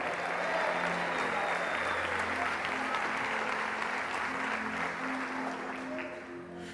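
A church congregation applauds God in one steady, dense wash of clapping that holds for several seconds, with some voices and tonal sound under it, before it thins slightly at the end.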